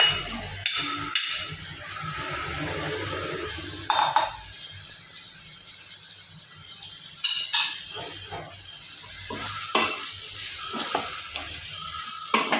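Cut okra stir-fries in oil in a pan, giving a soft continuous sizzle broken by sharp spatula clinks and scrapes against the metal at irregular intervals.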